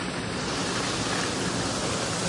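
Heavy rain pours down in a steady, dense roar of broadband hiss, constant and loud throughout with no breaks and no voices.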